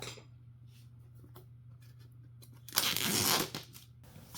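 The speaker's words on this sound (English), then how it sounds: "The box is shrink wrapped, so I have to take a knife to cut it open." A knife slices through crinkly shrink wrap on a DJI Mini 4 Pro drone box in one brief, close tearing rasp after a stretch of quiet handling sounds.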